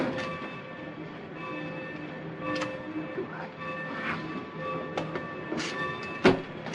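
Train in an old film scene, a steady mechanical rumble with intermittent clanks and hisses, one sharper bang near the end, moderately close.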